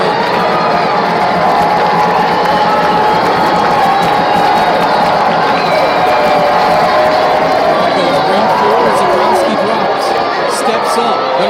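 A college football stadium crowd for UCO against Central Missouri roars and cheers steadily at full volume, a dense, continuous wall of noise with a play-by-play voice running over it.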